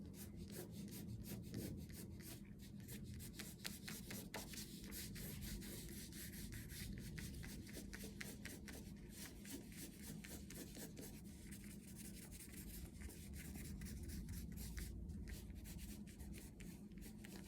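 A black crayon is rubbed lightly across paper in steady, quick scratchy strokes, a soft continuous rasping close to the microphone with no talking.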